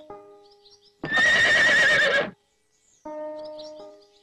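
A mare gives one loud, close whinny lasting about a second, framed by quiet musical tones before and after it.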